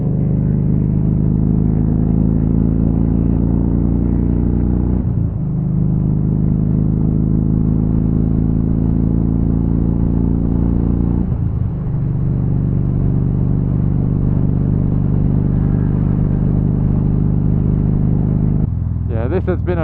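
Motorcycle engines rumble loud and steady on a Remembrance Sunday group ride, with the drone shifting pitch a few times as the bike changes gear.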